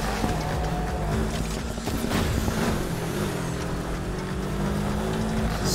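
A Need for Speed Heat race car engine drones loudly and steadily at high revs, with shifting tonal whine and a constant road roar throughout.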